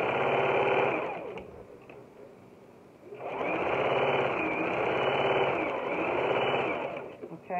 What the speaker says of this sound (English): I'm going to go ahead and sew the other side down, starting at this edge